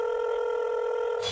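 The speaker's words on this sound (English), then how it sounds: "your phone is ringing" A telephone rings with a steady, loud electronic tone that holds for the whole stretch, then gives way to a short burst of rustling noise at the very end.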